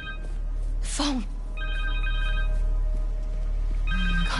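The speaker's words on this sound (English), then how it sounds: "Phone." A cell phone rings in the Spider-Man 2 video game on PS5, a repeating electronic ringtone with steady tones under a low background hum, with voices speaking briefly between the rings.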